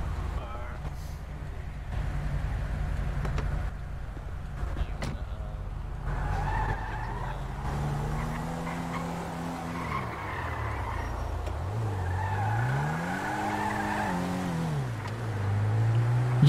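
A video game car engine drones and revs, rising and falling in pitch as it accelerates and shifts, with tire noise underneath and people talking over it throughout.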